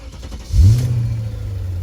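An engine cranks briefly and catches, rising into a steady low idle hum that continues close by without any voices.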